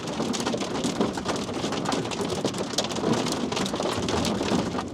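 Hail and heavy rain drum outside a camper van in Europe, a dense, loud, continuous patter with no break and no voices.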